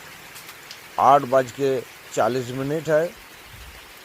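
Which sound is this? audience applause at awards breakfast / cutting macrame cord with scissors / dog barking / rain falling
rain falling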